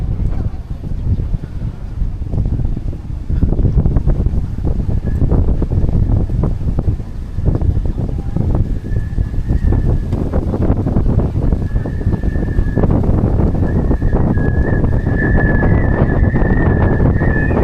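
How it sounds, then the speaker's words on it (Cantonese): Strong coastal wind on a day trip in Hong Kong buffets the microphone in loud, continuous rumbling gusts, with a steady whistling tone through most of it and occasional talk beneath. "啲風聲都好勁，噓噓聲"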